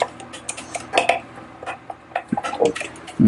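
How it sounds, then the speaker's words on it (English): Powder is stirred vigorously into a liquid soft plastic mix in a container, giving a run of scraping, clinking knocks against the sides at an uneven pace, close up and with no talking. "I know with powder you need to really stir it"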